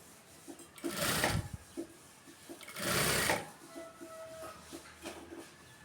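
Sewing machine stitching a cross piece onto a garment neckline gives two short, close bursts of whirring stitches separated by quieter handling noises and soft clicks, with no talking.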